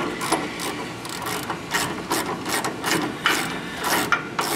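A ratchet tightening a nut on a RAM 1500 4x4 front coilover strut, steady repeated clicking strokes close by at an even rhythm, with no voices.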